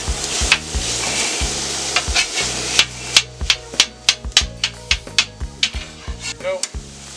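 Sausages sizzling in oil on a steel griddle, a steady frying hiss under a run of sharp metallic taps and scrapes from a spatula, with low music playing underneath.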